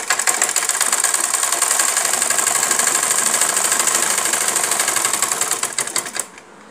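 A sewing machine runs a fast, steady stitch along the edges of a kameez, around the side slits and the hem. The dense mechanical whir continues for about six seconds, then winds down and stops.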